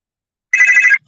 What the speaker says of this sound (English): if you heard my phone ringing